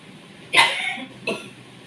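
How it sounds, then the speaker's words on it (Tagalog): Two sharp coughs from one person nearby, the first stronger, the second shorter, with quiet between them. "Ubo"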